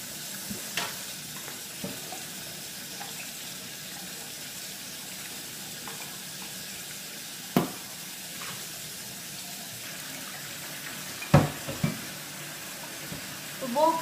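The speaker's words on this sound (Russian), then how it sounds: "Видите, посуду мою с вами вместе." Tap water runs steadily into a sink while dishes are washed in a home kitchen, a constant hiss punctuated by scattered clinks and knocks of crockery, with no talk.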